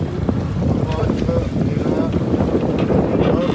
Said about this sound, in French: On a un beau petit vent à 11 nœuds, petit vent tranquille